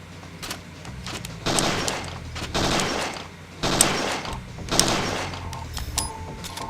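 Repeated bursts of gunfire in the PS1 game Parasite Eve 2 after a reload, loud volleys in several clusters with mechanical clacks between them.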